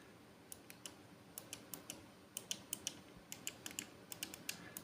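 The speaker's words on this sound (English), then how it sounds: "there's quite a satisfying sort of mechanical click at the end of the push" Trigger presses on a GameSir Cyclone 2 wireless controller, a quick series of sharp, light mechanical clicks in an uneven rhythm, close and fairly faint over quiet room hiss.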